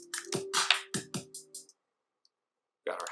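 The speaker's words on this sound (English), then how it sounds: "Got a snare." Snare drum sample on an Akai MPC 1000, firing a run of about seven crisp, snappy hits with a low hum beneath them, then a pause before one more hit at the end.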